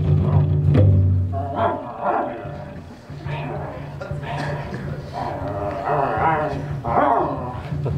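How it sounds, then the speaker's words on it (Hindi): Barking during a live stage play comes as a series of rough, roaring barks and whimpers mixed with loud actors' voices, likely a performer voicing the dog. "वो दुष्ट कुत्ता।"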